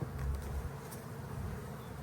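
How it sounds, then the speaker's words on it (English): Honey bees hum in a dense, steady buzz inside a hive during a spring inspection, close and continuous with no voices. "Guessing there's a few bees underneath."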